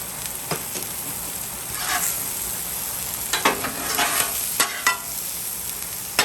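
Mushrooms and spring onion stalks for hibachi fried rice sizzle in a hot pan while a utensil scrapes and stirs them, a busy close-up frying hiss broken by sharp clacks of the spatula.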